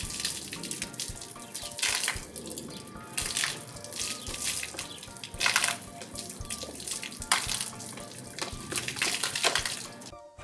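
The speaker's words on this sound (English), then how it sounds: "You can also use the stick to take a shower after the workout to rinse all that sweat from a very intense session" Water runs and sprays from a fitness stick used like a shower to rinse off after a workout, coming in several loud, hissing bursts with short pauses between them.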